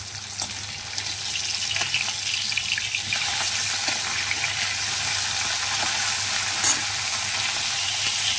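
Small tangra fish fry in hot oil, giving a steady hiss and sizzle that runs unbroken with faint clinks of stirring.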